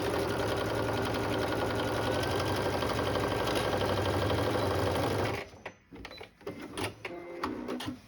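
A sewing machine top-stitches fabric bag handles with a steady, loud mechanical whir for about five seconds, then stops and is followed by quieter handling and fabric rustling.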